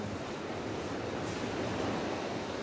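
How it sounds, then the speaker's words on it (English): Wind blows steadily at the Ebro River during spring carp fishing, a constant broad roar buffeting the microphone with no pauses and no voices. "It's windy, forecast says maybe snow."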